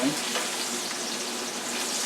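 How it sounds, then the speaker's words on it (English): Steady sizzling of pork chops frying in a hot pan, a continuous crackling hiss with no voices. "when you're frying"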